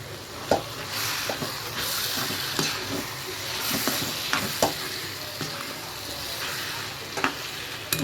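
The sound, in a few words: sautéing steamed shark fish in a pan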